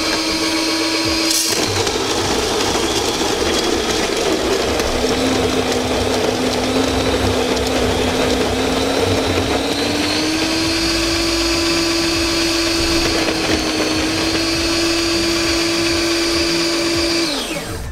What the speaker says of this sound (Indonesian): kita giling ya. Sebaiknya kita nyalakan terlebih dahulu